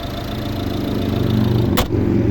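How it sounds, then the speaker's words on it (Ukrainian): A 2013 Volvo V60 with a 1.6 D2 diesel engine and manual gearbox idles smoothly and evenly, a steady low hum heard up close with one brief bright noise burst near the end. "тихенько, рівно, еластично працює двигун"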